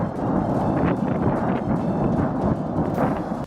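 Heavy, sustained rumbling roar from explosions at an army ammunition depot in Ryazan, Russia, loud and continuous throughout with dense low-end booming and no voices.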